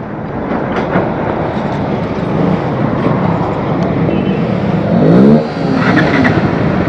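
A group of more than ten motorbikes, among them NS, FZ, Gixxer and Avenger models, rumbling together as they set off on a Sunday ride, a dense, loud engine drone with a revving swell near the end.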